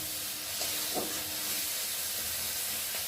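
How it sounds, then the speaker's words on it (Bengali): A soft, steady sizzle of prawns frying in a pan, a constant hiss with faint clinks of stirring now and then. "আমি এখন চিংড়ি মাছগুলোতে ফার্স্টে ভালো করে ভেজে নেব।"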